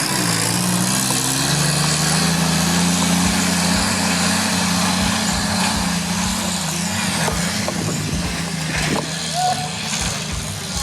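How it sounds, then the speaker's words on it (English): A 1948 Willys CJ-2A Jeep drives up a steep sandy slope off-road. Its engine drones loud and close, holding a steady strain, with a faint shift in pitch toward the end. "my friends are about to try driving up a steep, sandy slope with the Willys"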